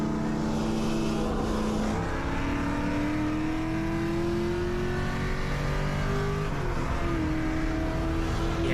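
A Mustang with a built 4.6 engine revs hard in a drag race against a Shelby GT250, a loud, continuous engine roar climbing steadily in pitch through the gears, heard close from inside the car.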